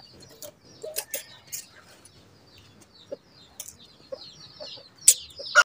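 Aseel chickens being fed grain give scattered, soft clucks and a few sharper squawks, close but fairly quiet, with pauses between calls.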